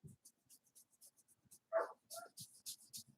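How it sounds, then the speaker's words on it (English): A dog barks a few times in the background of a quiet room, a short loud burst followed by softer yips, with light scratching of drawing between. "You can hear my dog. He's in the background barking."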